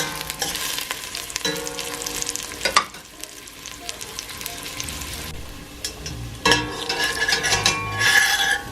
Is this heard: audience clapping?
no